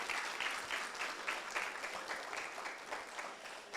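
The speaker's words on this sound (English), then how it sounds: "Let's give her another round of applause." Applause from the crowd at a school ribbon-cutting ceremony, steady clapping that runs the full length at moderate level with a faint pulsing texture and no talking.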